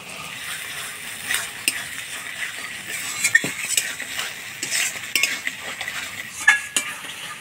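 A spoon stirs spice paste with sour yogurt and a little sugar in a pan, giving a steady run of soft scrapes and clinks over a faint sizzle, close and continuous.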